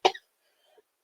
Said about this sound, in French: C'est une toux qui n'arrête pas.